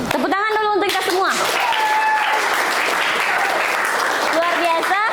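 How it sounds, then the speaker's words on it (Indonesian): Dense, loud applause from a group of students at an Indonesian school event, clapping continuously while a voice speaks over the start and again near the end. "Tepuk tangan dulu untuk kita semua"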